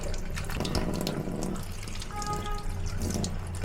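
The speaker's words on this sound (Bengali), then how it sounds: "আস্তে আস্তে কল থেকে এভাবে সুন্দর করে ফুলগুলো ধুয়ে নিচ্ছি" Tap water runs steadily over pumpkin flowers as they are rinsed clean at a kitchen faucet, a continuous close splashing and trickling with no voices.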